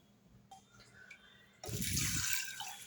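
Water pours steadily into a pressure cooker holding green gram, a sudden rushing gush after a few quiet clicks and taps, then tapering off.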